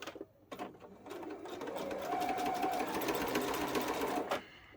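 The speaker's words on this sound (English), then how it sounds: "we're going to sew that together using a 1/4 inch seam allowance" A sewing machine stitching a green quilt strip onto a small square with a quarter-inch seam, a rapid, steady mechanical whir close by that speeds up and then stops, with no talking.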